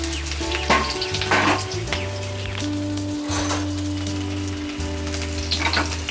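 Onion frying in hot oil as the gravy base for a Bombay duck curry crackles and sizzles loudly and continuously, with a few sharper spatters and a low steady hum underneath.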